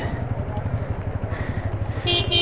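A motorcycle running without a silencer while struggling through knee-deep floodwater on a Dhaka street during heavy rain, a loud close rough engine chug pulsing steadily, with a brief sharper sound at the end.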